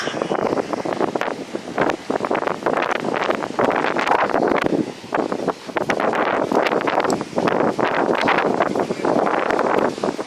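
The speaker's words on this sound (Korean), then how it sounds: "바람 굉장히 많이 붑니다 지금" Strong seaside wind on the coast at Yehliu, Taiwan, buffets the microphone in loud, roaring gusts that barely let up, a constant rushing blast.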